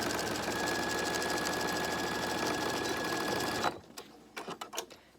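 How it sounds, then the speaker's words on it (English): A sewing machine stitches a narrow top seam on a reusable fabric face mask, running loud and steady at close range for several seconds before stopping, followed by soft handling clicks. "Now I'm going to very carefully sew as narrow of a top seam along that bottom"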